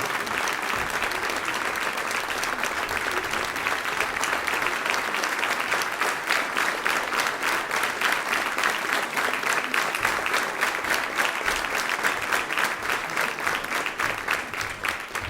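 An audience at a 2009 concert show applauds the band, a dense, steady wash of clapping that holds for about fifteen seconds before thinning slightly at the end.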